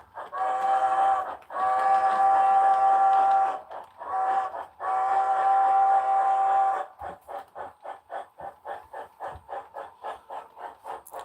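An S-scale model steam locomotive, number 482, sounds its whistle in several long, steady blasts, then puffs a fast, even chuffing rhythm as it runs on a layout.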